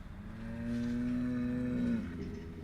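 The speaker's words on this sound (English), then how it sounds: "The mooing cows jerk me out of it" A cow gives one long, sustained moo nearby, a deep steady bellow lasting over a second before tailing off, heard alone against quiet farm background.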